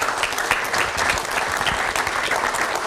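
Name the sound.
audience applause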